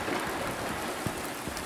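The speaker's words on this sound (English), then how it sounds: "The garden is lovely at night and in the rain." Steady rain falls through a garden at night in Silent Hill 2 Remake, a dense even hiss of drops on surfaces with a few slightly louder patters, heard alone without voices.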